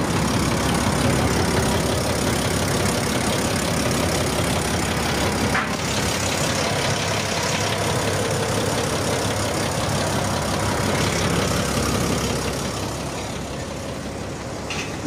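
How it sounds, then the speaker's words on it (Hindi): A Nissan UD pickup truck sits with its engine idling, a steady close rumble that holds evenly throughout and eases slightly toward the end, with no talking. "ये इसके इंजन की आवाज़।"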